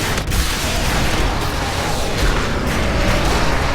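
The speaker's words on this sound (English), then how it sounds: "Those explosions do a lot of damage" Explosions in Diablo 3 form a dense, loud, continuous rumble of blasts and crackling impacts in game combat. A sharp burst opens the stretch, followed by steady booming.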